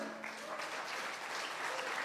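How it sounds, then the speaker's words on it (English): Audience applause at an ambassadors' summit talk, a steady wash of many hands clapping throughout, moderately loud and without speech. "Can I have a clap for me without glasses?"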